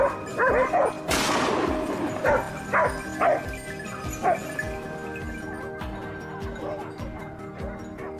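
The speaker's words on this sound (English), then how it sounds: "The hound's barking erupted again, grabbing Kevin's attention." Hound dog barking in bursts during a wild boar hunt outdoors, with several sharp yips and whimpers at a moderate distance over steady background noise.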